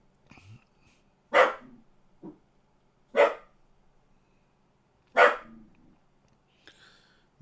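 A dog barks from somewhere nearby in the room, three sharp separate barks spaced a couple of seconds apart with quieter yips between, no talk over them.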